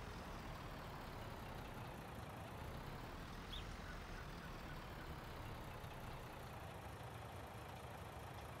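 A tractor engine in the farming video game Farming Simulator 19 on the Ravenport map runs with a steady, low, even drone. The sound is faint and continuous, with no voices.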